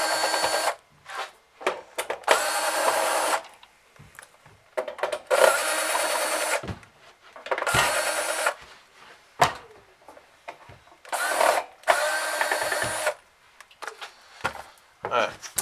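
Screws are backed out of the front panel of an MCA-C3 multizone controller with a power driver, in repeated loud whirring bursts separated by short pauses, with clicks and handling noises between them.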